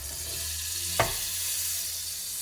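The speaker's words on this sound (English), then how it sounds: "So I'm gonna put a little bit of butter in the pan." Butter sizzling in a hot pan, a steady hissing fry with one brief clack midway, heard alone without talk.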